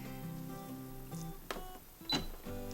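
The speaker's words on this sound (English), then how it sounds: "Coming over to my sewing machine to sew on all the ribbons" A home sewing machine running a zigzag stitch to attach ribbons to a skirt, a steady mechanical whir with rhythmic ticking and a few brief clunks, heard alone up close.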